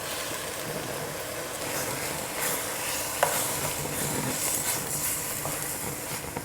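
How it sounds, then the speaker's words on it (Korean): Kimchi stir-frying in a pan with a little sugar added, giving a steady close sizzle with faint stirring scrapes and one brief sharp clink partway through, no talking. "김치 볶을 때"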